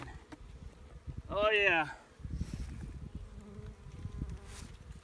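Honey bees buzz steadily at an open hive during a spring cleaning, a close continuous drone with one louder pass near the start, while someone speaks briefly.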